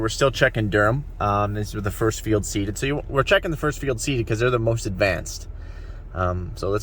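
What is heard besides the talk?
No everyday noises stand out.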